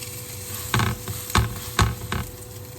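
A salmon croquette patty coated in cornmeal fries in a smoking-hot pan, with a few loud, brief bursts of sizzling and crackle rising over a low, steady background hiss.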